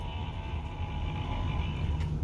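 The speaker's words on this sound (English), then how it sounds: "We will blow the foghorn, which sounds like this." A novelty foghorn blown during a live sports card break: a single low, muffled, buzzy blast held steadily for a couple of seconds at moderate volume, with no talking over it.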